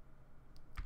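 Mechanical keyboard keys clicking softly, a faint tap followed by a louder cluster of clicks near the end, close to the microphone and without speech.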